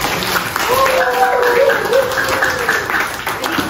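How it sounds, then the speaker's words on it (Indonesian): A classroom of students applauds a classmate in a geography lesson, dense, fairly loud clapping across the whole stretch, mixed with a teacher's voice and murmurs over it. "Tepuk tangan buat Pasya."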